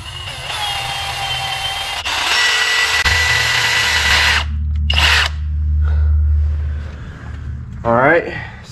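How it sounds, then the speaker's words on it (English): A power drill bores out a stripped bolt on a 2008–2009 ZX10R motorcycle, its whine running in close, loud bursts with brief pauses, while someone talks between passes. "So that one I'm gonna have to drill out and get out with an easy out."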